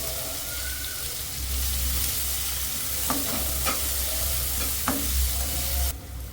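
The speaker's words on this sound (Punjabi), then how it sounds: "ਅਸੀਂ ਗੋਭੀ ਦੇ ਵਿੱਚ ਪਿਆਜ਼ ਗ੍ਰਾਈਂਡ ਕਰਕੇ ਪਾਵਾਂਗੇ" Ground onion fries in a hot tempering for a cauliflower curry, giving a steady loud sizzle with a few brief stirring scrapes of a utensil in the pan.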